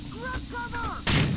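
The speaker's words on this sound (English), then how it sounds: "Flashbang." A flashbang grenade goes off in the game Rainbow Six: Vegas 2, one sudden loud broadband burst near the end of the clip, after game voice chatter and dialogue.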